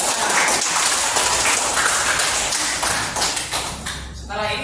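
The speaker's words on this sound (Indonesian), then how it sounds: "tepuk tangan buat Yuni" Classroom applause for a student before a group presentation, dense, fast clapping from many hands close by, tapering near the end with a voice speaking under it.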